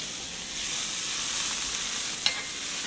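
Onions frying in oil in a pan for garlic pasta, giving a steady close sizzle with a soft crackling hiss throughout and one brief sharper click near the end.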